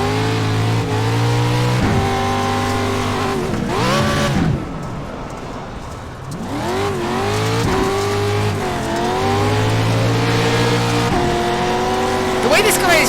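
Dirt trucks race on a dirt road course at Charlotte in iRacing, engines revving up and down in repeated rising and falling sweeps as trucks pass close, with tire noise and a brief lull midway, while a voice talks over it.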